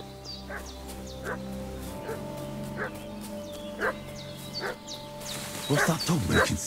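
A dog in the video game Kingdom Come Deliverance II barks repeatedly at an even pace in the middle distance over sustained ambient tones, with louder voices or commotion near the end.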